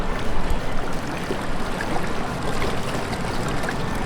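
Broadband rushing water, like waves washing over a beach, loud and continuous with slight surges throughout.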